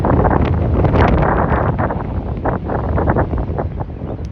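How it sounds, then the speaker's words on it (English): Strong wind buffets a microphone outdoors beside a 1989 Chrysler TC by Maserati convertible, producing continuous loud, gusty roaring rumble that surges and eases throughout with no voices. "And there comes the wind. The wind loves me."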